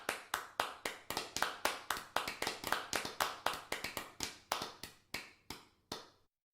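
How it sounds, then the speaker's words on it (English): Slow, sparse clapping from one or a few pairs of hands: about thirty sharp, evenly spaced claps over six seconds, then sudden silence. "Please clap."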